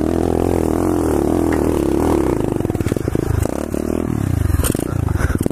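A pit bike's engine labors through a hill climb attempt, loud and close, its raspy drone breaking into choppy, sputtering bursts with clattering and scraping as the bike struggles up the slope.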